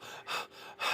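A voice imitates a panting dog with two loud, breathy bursts of quick exhaled huffs, separated by softer breaths, close to the mic and with no other sound.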